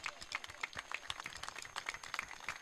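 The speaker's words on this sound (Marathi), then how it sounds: "इतक्या टाळ्या वाजल्या पाहिजेत" Applause from an audience at a Shivkranti award felicitation event: a faint, distant patter of rhythmic clapping with sharp, evenly repeated claps running steadily throughout.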